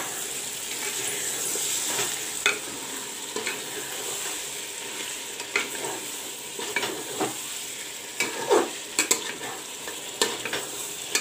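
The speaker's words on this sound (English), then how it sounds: "The tomato puree also is fried up with the meat and the masala" Tomato puree fries with mutton and masala in a pot, giving a steady soft sizzle punctuated by irregular scrapes and clinks of stirring, with no voices.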